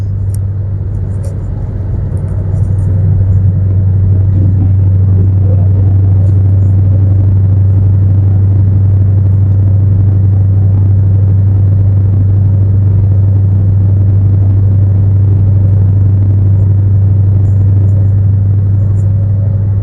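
Steady low exhaust drone of a 2013 Ford Mustang GT 5.0 V8 with an axle-back exhaust, heard from inside while driving, a constant deep rumble with road noise throughout and no talking.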